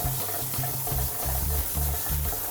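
Warm water runs continuously while soap is rinsed off a Bordoodle during grooming, a steady splashing flow with a rhythmic low sloshing pattern and no talk.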